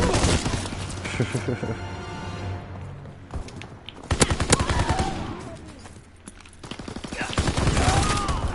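Automatic weapons firing in Call of Duty WWII online multiplayer, bursts of rapid machine-gun fire and scattered shots, loud and close, with voices talking over parts of the action.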